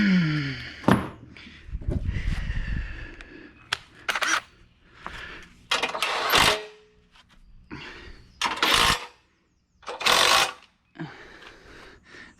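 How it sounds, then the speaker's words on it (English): A small Harbor Freight 3/8-inch drive impact wrench fires in several short, loud rattling bursts separated by pauses, with scattered handling clatter in between. "this is a little Harbor Freight 3/8 drive impact."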